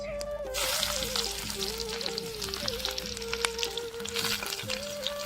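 Bay leaf, whole cumin and chopped onion fry in oil over a wood fire, a continuous crackling sizzle under a tonal background that holds steady throughout.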